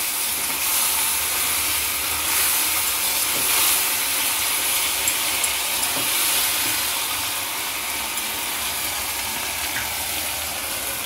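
Onion, ginger and garlic paste with spices fries on a low flame for masala crab, giving a steady, bright sizzle and hiss that runs unbroken throughout.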